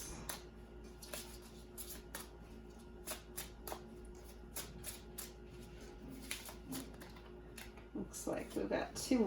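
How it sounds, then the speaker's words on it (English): Tarot cards being shuffled in a reading, a quiet run of soft crisp riffling ticks and flutters over a steady low hum, growing busier and louder near the end. "Give it a couple more shuffles."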